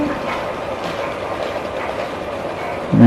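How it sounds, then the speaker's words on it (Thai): Small LEGO STEM toy train rolling forward along its track, a steady continuous clattering rumble that stays even and close, with a louder knock right at the end. "เอาละคราวนี้รถไฟเดินหน้าอีกสองรอบครับ"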